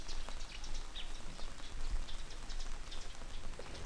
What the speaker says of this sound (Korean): 다 내려오니 이제서야 비가 내리더라고요.